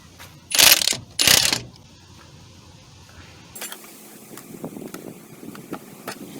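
A ratchet wrench loosens the bolts on a power steering pump in a Toyota Sienna engine bay, with two loud bursts of rapid ratcheting clicks up close, then quieter scattered metallic clicks and taps.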